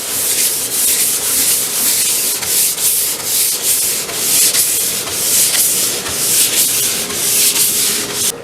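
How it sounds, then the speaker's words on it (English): Sandpaper rubbed by hand over a cedar blanket chest, a steady rhythmic series of close, hissing strokes, roughly one per second, with no voices. "I'm going to do a little hand sanding"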